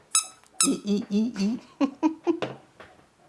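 A squeaky rubber duck toy gives a quick series of sharp, high squeaks in short irregular bursts, close and fairly loud, with a giggly, voice-like quality.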